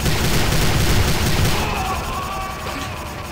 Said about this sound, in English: he just wouldn't stop fucking shooting